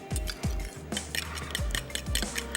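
A utensil mixes a half-teaspoon of paste with garlic in a bowl for dahi baray, giving repeated scraping, clinking strokes against the bowl in a steady rhythm, close and fairly clear with no talking.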